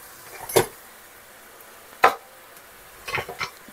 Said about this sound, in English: Just stirring everything at the same time here.